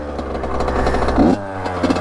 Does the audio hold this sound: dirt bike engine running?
yes